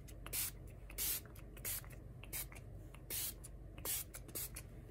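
Tattered Angels Glimmer Mist in Green Forest colour is sprayed from a pump bottle for stencil crafting, giving about eight short, crisp hissing bursts in an uneven rhythm, close and fairly quiet against a low background hum.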